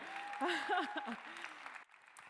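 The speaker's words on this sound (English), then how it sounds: "We can applaud for QuickBooks Online Accountant" Applause at a QuickBooks Connect accountant keynote in Toronto, a dense wash of clapping from the audience with voices riding over it, cutting off sharply near the end.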